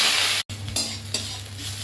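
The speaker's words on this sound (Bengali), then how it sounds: "এবার ফোড়ন দিচ্ছি, শুকনো লঙ্কা ফোড়ন, একটু জিরে ফোড়ন, এরপর দিচ্ছি কুচানো পেঁয়াজ।" Dry red chilli, cumin and chopped onion tempering sizzle loudly in hot oil in a pressure cooker, a steady frying hiss broken by a brief dropout and a few stirring scrapes.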